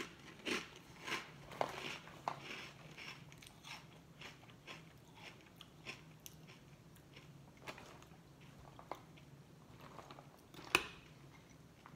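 Crunching of Aldi Millville peanut butter and jelly cereal puffs, a run of soft close crisp bites and chews spread across the stretch, with a few louder crackles and a sharp snap near the end, no talking.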